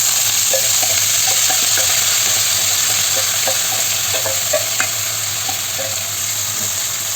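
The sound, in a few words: cabbage being stir-fried in a pan for thoran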